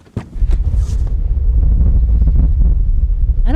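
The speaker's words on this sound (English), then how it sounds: "There's a sandstorm. I'm not talking a little bit of sand. There are 45-mile-an-hour gusts." A sandstorm with 45 mph wind gusts heard as a heavy, low rumbling roar that buffets the microphone, building after a sharp opening knock and staying loud and unbroken, with a brief squeak near the end.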